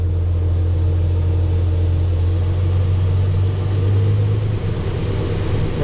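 A tractor-driven grain cart auger unloads beans into a truck, a steady loud mechanical drone with a low engine hum and the hiss of grain running throughout, no talk.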